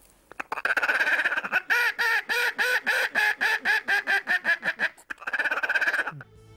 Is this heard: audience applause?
no